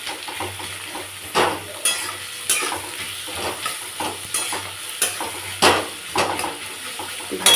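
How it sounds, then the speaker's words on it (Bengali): Onions frying in hot oil in a pan while cooking at home: a steady close sizzle broken by repeated scraping and stirring strokes against the pan at an uneven rhythm, with no talking. "পেঁয়াজটা ভাজা ভাজা করে নেব"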